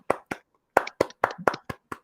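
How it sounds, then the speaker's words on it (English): A few people clap a guest in during a live whisky show: about eight separate, crisp hand claps, close and loud, irregularly spaced with short silent gaps between them. "Let's clap him in, lads."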